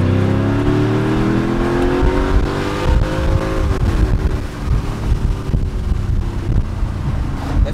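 A Mercedes CLK55 AMG with a custom exhaust accelerates hard, its engine note climbing steadily and then dropping into a lower, rumbling drone as it pulls, heard up close with some wind noise and no talking.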